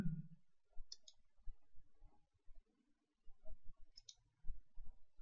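Quiet computer mouse clicks while working through an online submission form, a few sharp isolated clicks spaced a few seconds apart in a near-silent room with faint low handling noise.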